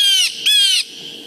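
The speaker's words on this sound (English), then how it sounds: "It says, Jay, Jay, Jay. And that's a blue jay" A blue jay gives two loud, harsh, nasal calls close by, each about a third of a second long and separated by a short gap, with nothing else audible around them.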